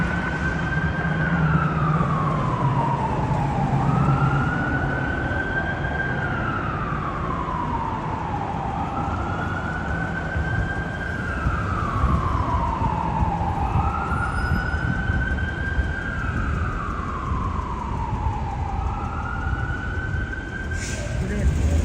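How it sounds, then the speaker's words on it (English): A wailing emergency vehicle siren rises and falls in long, repeating sweeps over steady traffic rumble near Broadway in Los Angeles, loud and fairly close. "Sorry for the sirens."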